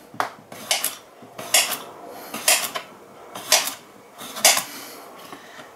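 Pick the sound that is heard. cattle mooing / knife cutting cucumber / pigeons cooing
knife cutting cucumber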